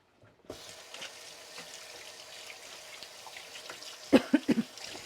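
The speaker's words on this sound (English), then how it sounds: "I'm just going to wash my hands again." Hands washed under a running kitchen tap, a soft steady water hiss with faint splashes and a few louder drips and splatters near the end, close and quiet.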